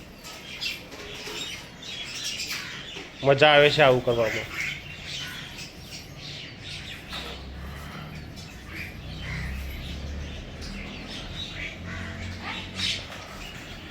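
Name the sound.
birds chirping and squawking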